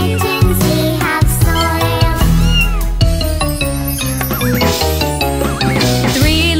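Kittens' meows in a children's nursery song are imitated by singing voices, repeated meows sung in rhythm over bright, loud musical accompaniment.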